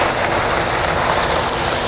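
A sugarcane harvester works through a cane field, giving off an unbroken loud rushing drone over a low mechanical hum, with no voices.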